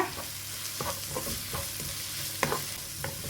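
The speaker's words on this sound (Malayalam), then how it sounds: "അതിലേക്ക് ഇനി ഒരു തണ്ട് കറിവേപ്പില രണ്ട് പച്ചമുളക് നീളത്തിൽ കീറിയത് രണ്ടും ചേർത്തിട്ട് വീണ്ടും ഒന്ന് വഴറ്റി കൊടുക്കുക" Curry leaves and slit green chillies sautéing in a pan of masala for fish podimas, a soft steady sizzle with occasional scraping taps of a spoon stirring, close and quiet.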